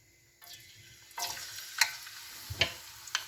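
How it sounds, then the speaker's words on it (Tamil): Garlic is dropped into hot oil in a pan while dried anchovy (nethili karuvadu) stir-fry is being made, sparking a sudden sizzle and frying crackle with a few stirring scrapes, close and alone. "இந்த டைமில் வந்து நாங்கள் வெள்ளைப்பூடை போட்டுக்கொள்வோம்"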